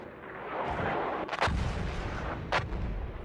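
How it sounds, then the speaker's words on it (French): Cannons fire repeatedly in a reenacted 1837 Patriote rebellion siege, heavy booming artillery blasts with a couple of sharp close reports over a rumbling battlefield background. "les canons se mettent à tirer à répétition"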